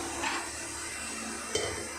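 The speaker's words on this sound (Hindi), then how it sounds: "अभी मैं कुकर खोल रही हूँ।" A steady, noisy hiss fills the kitchen as a pressure cooker is opened after two whistles, broken by a couple of brief metallic clicks.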